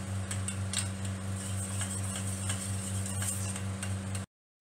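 Butter being stirred with Kashmiri chili powder and black pepper, a steady run of soft scraping and clinking from a spoon against the bowl over a constant low electrical hum, close, without talking, then cutting off abruptly.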